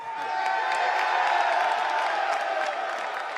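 A crowd cheers and applauds at a UFC press conference at Madison Square Garden in New York, a steady dense roar with whoops and claps throughout, loud and continuous.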